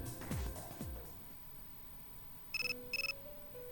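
Persona 3 FES in-game phone ringtone: two short bursts of bright repeated electronic trills, followed by a simple tonal melody line, heard clearly against quiet background music.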